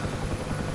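A UH-1H Huey helicopter in the DCS flight simulator drones with its steady rotor and engine roar, loud and continuous throughout the short moment.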